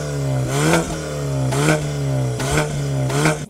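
A BMW 520 car engine, stock, revs up repeatedly in a steady cycle, rising in pitch then dropping back, about four blips, loud and close.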